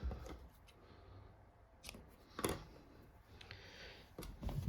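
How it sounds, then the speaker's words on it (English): Scissors snip yarn ends on a crocheted coaster: a few sharp, close cuts spaced out against a quiet room background, with no talking. "then just trim your ends out of the way"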